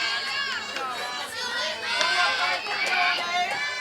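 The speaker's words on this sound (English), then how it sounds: "Crowd loving this ball game." Spectators at a Neosho vs Carthage softball game cheer and shout continuously, with high, excited voices, including children, rising and falling in a lively, close-sounding roar.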